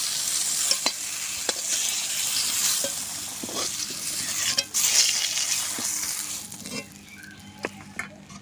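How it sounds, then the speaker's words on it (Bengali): Potatoes for a fish curry fry in oil left from frying beans, a steady close sizzle with scattered stirring clicks and scrapes throughout, no talking. "সিম ভাজা তেলের ভেতরে আমি আলুগুলো ভেজে নেব"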